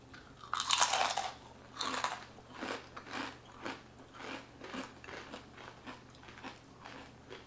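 Close, crisp crunching of chips being bitten and chewed, ASMR style, with a few loud bites up front then steady softer chewing crunches, no talking.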